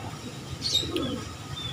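Nearby pigeon, apparently sick with a one-eye cold, gives a soft low coo with a faint chirp over a quiet, hissy background.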